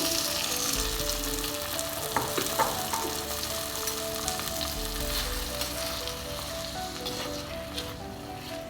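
Prawns crackle and sizzle in a hot pan, a continuous close frying hiss with an occasional stir, over soft background music.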